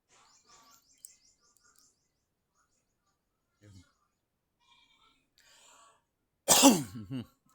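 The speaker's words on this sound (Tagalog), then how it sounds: "Inuubo na tayo" After near-silence with faint scattered sounds, a person coughs once harshly and loudly close by near the end.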